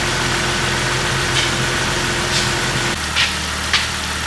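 A Jeep Wrangler 4.0L engine with a start-then-stall fault idles with a loud, steady low drone and faint rattling, and the tone shifts noticeably near the end.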